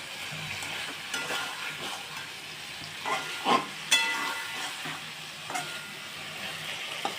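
Bele fish cooking in a brinjal (aubergine) curry in a pan gives a steady frying sizzle with scattered spatula stirs and scrapes, a few sharper clatters midway, and no voices.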